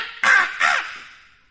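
A crow gives two loud, harsh caws close by, each call short and rasping, with a brief gap between them and a fading tail afterward; no voices.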